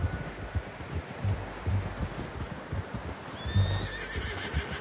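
Horse neighs and whinnies in Red Dead Redemption 2, with clip-clop hoofbeats repeating steadily underneath and a faint rustle of wind and leaves around them.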